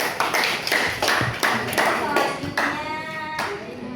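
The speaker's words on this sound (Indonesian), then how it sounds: "tepuk tangan buat Gina" A class claps for a student named Gina, a burst of hand claps in uneven bursts close by, with a little talk mixed in.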